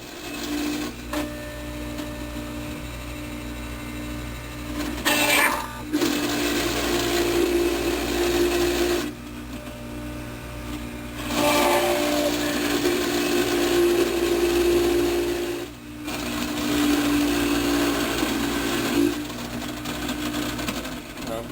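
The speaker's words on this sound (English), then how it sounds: "now I'm going to make some apple pulp" A Norwalk juicer's motor grinds apples into pulp in loud, steady whirring runs, each cut off by brief pauses, with a higher strained whine as the fruit feeds through.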